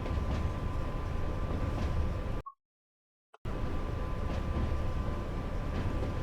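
A locomotive under test runs along the West Coast Main Line on the slow line, giving a steady rumbling rail roar with a clear tonal hum, broken by a brief total dropout partway through.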